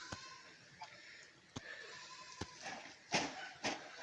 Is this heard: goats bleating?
yes